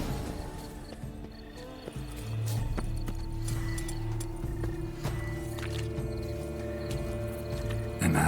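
In The Witcher 3: Blood and Wine, a horse's hooves clip-clop in a steady walking rhythm close by, with a brief whinny and background ambience.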